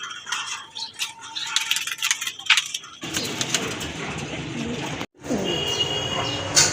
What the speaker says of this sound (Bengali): এখানে এক জোড়া চুইনা কবুতর আছে